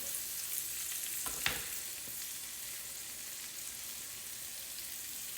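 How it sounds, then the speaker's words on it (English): Squash laid over onions sauteing in a pan gives a soft, continuous sizzle, with one brief clatter as the pieces are stirred or dropped in partway through, then steady frying. "I'm just going to lay this squash in here on top of these onions and let it all just saute together"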